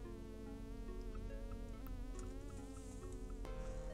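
A fly buzzes steadily in the Space Quest 5 video game, a continuous droning hum with wavering pitch that stays close and prominent throughout, with no talking.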